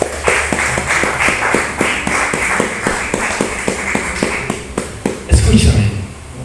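A church congregation at Iglesia Restauración claps in a steady, quick rhythm of sharp, close hand claps, with a heavier thump near the end.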